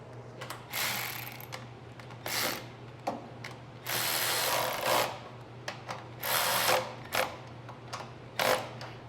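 A ratchet clicks in short bursts while tightening the carburetor mounting nuts on a Craftsman snow thrower. Quick, close clicking runs come in uneven spurts separated by brief pauses, over a low steady hum.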